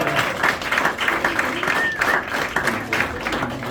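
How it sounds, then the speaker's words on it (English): An audience at a magic show at House of Cards in Nashville claps in a steady, fairly dense round of applause, with a voice faintly mixed in beneath the clapping. "we're going to have a round of applause for our 3"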